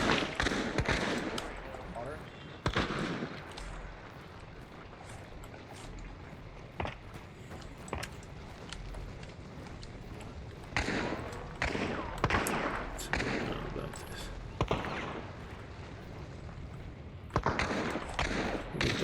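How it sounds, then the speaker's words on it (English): Gunfire in a streamed video game comes as scattered sharp bursts and volleys at moderate level, repeating irregularly over a quieter background bed, with a player's voice talking at intervals. "Those initial shots"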